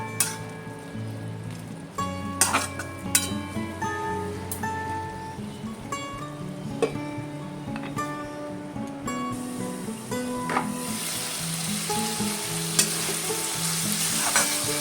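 Bottle gourd and prawn curry fries in a pan, a loud steady sizzle joined by repeated clinking stirs of a spoon, the hiss swelling toward the end.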